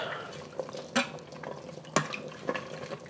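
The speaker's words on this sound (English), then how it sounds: "once the liquid starts to boil or simmer, add my cornstarch and quickly stir it" Cornstarch being stirred into simmering short rib cooking liquid, quiet bubbling under a few sharp clinks and scrapes of a spoon against the pot.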